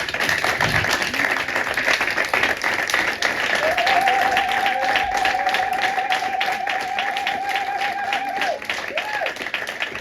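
A church congregation at a French-language Sunday service applauds steadily and loudly, sustained clapping filling the room, with a faint tonal voice or instrument line rising through the middle.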